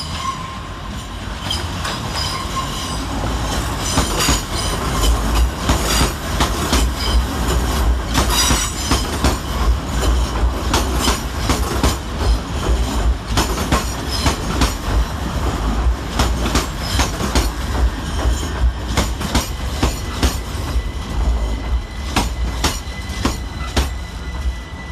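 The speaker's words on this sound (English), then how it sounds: "Arriving to terminate with a C2C service off of Grays is 357002" A C2C Class 357 electric train pulls into London Fenchurch Street station, a continuous rumble with clickety-clack wheel beats over rail joints and occasional squeals, steady and fairly loud throughout.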